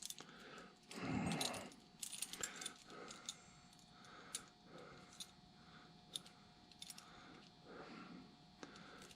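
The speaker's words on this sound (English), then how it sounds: "I might thumb through these keys a little bit and see what they..." Old railroad lock keys are sifted through a box in a workshop, giving quiet metallic jangles and clinks in scattered bursts, with one louder rattle near the start and lighter taps after.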